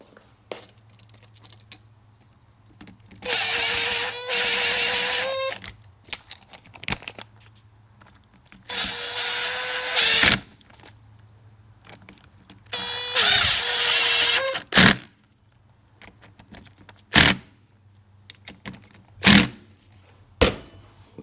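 Power tool driving a batch of bolts into a retainer on a Seadoo GTX DI, three whirring runs of about two seconds each, loud and close, separated by pauses with sharp clicks and clunks.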